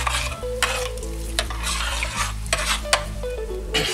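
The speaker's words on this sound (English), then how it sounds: "So we're gonna get it a stir." A spoon stirs loose leaf tea in a pot on the stove, giving a few clinks and scrapes against the metal over a low steady simmer, with no talking.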